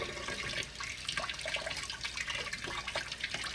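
Hot water runs from a kitchen tap over frozen tomatoes, a steady hissing splash with small irregular spatters, fairly close and moderate in level, with no talking.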